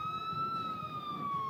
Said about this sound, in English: Hear the old siren.